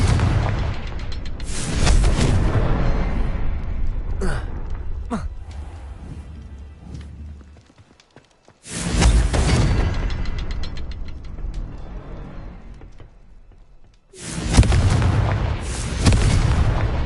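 Confringo blasting spell explosions in the video game Hogwarts Legacy: three loud booming blasts, each followed by a long crackling decay, separated by brief quiet gaps.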